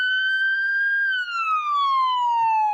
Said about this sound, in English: sorry about the loud sirens